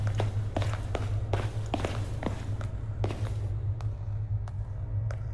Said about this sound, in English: Y'all hear his footsteps?